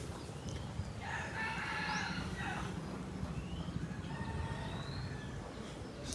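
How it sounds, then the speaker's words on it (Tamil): Roosters crow at a Buddhist temple near the Pattaya viewpoint in Thailand, several calls coming from a moderate distance over steady outdoor background noise. "சேவல் கோழி தான் நிறையா வளர்த்துட்ருக்காங்க."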